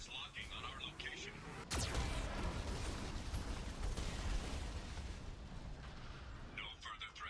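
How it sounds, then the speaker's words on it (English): A Geth cannon fires in the video game Mass Effect 2, a single sharp crack that gives way to a sustained roaring blast lasting several seconds, set among electronic game sounds. "Geth cannon is locking on our location."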